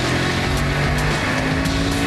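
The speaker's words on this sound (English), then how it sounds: "The 5-liter engine, it loves boost." A Hennessy-modified car with a supercharged 5-liter engine accelerates hard, a loud, dense engine roar with rising tonal whine and a few sharp gear-change bursts, close and continuous throughout.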